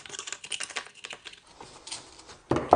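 Excess foam insulation is cut away during a wall patch repair, giving a quick series of close, dry crackling snips and crunches that end in a louder scrape, with no talking.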